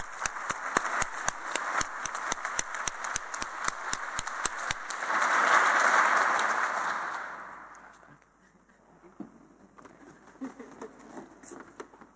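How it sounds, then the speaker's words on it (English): A conference audience at a closing plenary session claps steadily for several seconds with sharp, even hand claps, then the applause swells into a wash of noise and fades to quiet. "give yourselves a round of applause,"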